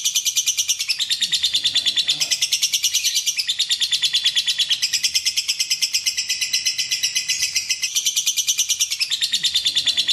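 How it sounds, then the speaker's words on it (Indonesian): Lovebirds chirp continuously in a dense, shrill chorus of rapid high tweets, loud and close, with a steady pulsing rhythm and faint low background noise. "Lovebird merupakan salah satu jenis burung yang cukup populer di Indonesia."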